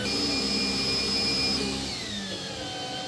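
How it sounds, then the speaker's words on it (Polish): A robot vacuum cleaner runs its self-cleaning cycle on its brushes, giving a steady close motor whine with high tones that drop in pitch partway through, with no talking. "Teraz szybkie czyszczenie szczotek. Na szczęście odkurzacz sam się czyści"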